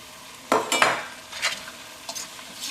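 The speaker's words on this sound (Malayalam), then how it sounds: "ഇതിലേക്ക് നമുക്ക് മീൻ ചേർക്കാം." Fish pieces dropped into pickle masala in a pan for meen achar, a sharp clatter and quick scrape followed by a few softer stirring strokes over a faint background sizzle.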